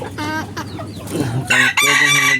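Loud, close chicken clucking and squawking from a hen laying her first egg, with her rising cackle bursting out in the final second.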